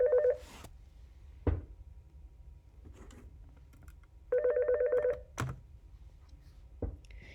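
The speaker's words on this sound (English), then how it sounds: "Sorry for the phone ringing." A telephone rings in a quiet room with two short electronic tone bursts several seconds apart, separated by a few soft clicks and knocks and no speech.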